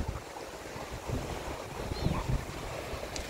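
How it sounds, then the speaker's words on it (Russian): Caspian Sea waves washing onto the shore, a continuous close rumble of surf mixed with gusty wind buffeting the microphone. "О, какое морешко."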